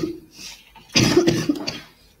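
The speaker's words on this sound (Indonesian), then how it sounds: "Tengok aku batuk." A single person coughs once sharply up close, a harsh burst with a short follow-up hack, after a faint throaty murmur.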